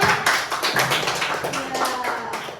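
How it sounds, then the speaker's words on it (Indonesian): Sparse, uneven clapping from a small group celebrating a perfect quiz score in a coding and computational thinking lesson, a handful of claps and taps with a voice speaking over them. "Tepuk tangan."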